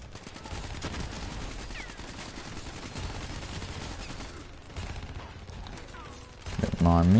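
Sustained automatic gunfire fills a battle in the Call of Duty Black Ops 3 campaign, a dense rattling stream over a steady rumble with a burst of heavier shots at the end.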